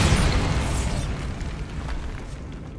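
A Bombarda spell explosion in the video game Hogwarts Legacy, a loud deep boom at the start whose rumbling debris tail slowly fades over a few seconds.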